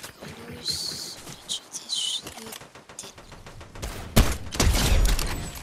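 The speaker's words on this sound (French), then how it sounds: "ça tire en face" Rapid bursts of gunfire in the video game Fortnite crack out in loud, dense volleys, quieter scattered shots early giving way to a heavy sustained barrage near the end.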